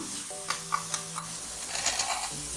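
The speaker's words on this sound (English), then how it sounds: "we have to put in the soya meat or the TVP and let it fry a little bit" Soya meat (TVP) fries in a pan with a steady close sizzle while a utensil stirs and scrapes it in quick irregular strokes, with no talking.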